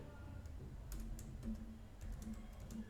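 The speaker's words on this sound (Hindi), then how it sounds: "थिंक मेरा कीबोर्ड पर वर्क नहीं कर रहा प्रॉपर्ली।" Scattered keystrokes on a computer keyboard while coding, in a few short bursts with pauses between, fairly soft against a low background hum.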